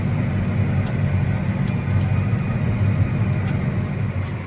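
Steady low rumble of a farm tractor engine running, heard from inside the cab on a fine day, a constant drone with no talk over it.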